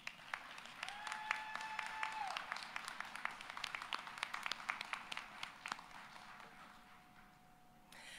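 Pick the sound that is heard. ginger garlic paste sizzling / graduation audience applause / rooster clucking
graduation audience applause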